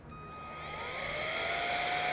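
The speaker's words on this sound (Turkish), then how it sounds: "Bu bildiğiniz bir elektrikli süpürge oldu" Handheld electric car vacuum cleaner starting up and running alone, its motor whine rising in pitch and loudness to a steady, close hum.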